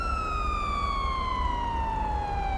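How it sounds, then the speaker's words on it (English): A police cruiser siren in GTA 5 with the LSPDFR mod wails steadily and loudly, one long falling tone holding through the whole stretch without pause. "Let's go ahead and turn the siren off here."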